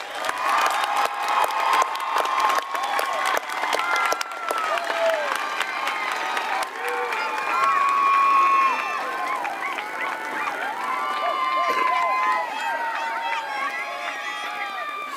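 Audience at a Russell County Schools graduation ceremony applauding the graduates, sustained clapping and cheering from a large crowd with whoops and scattered shouts rising and falling.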